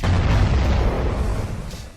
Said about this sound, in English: a nuclear explosion is a terrible thing